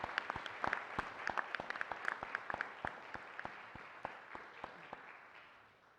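At a county board meeting, a small group claps for a departing member, the claps sounding distinct and sparse over a soft room bed and gradually thinning out.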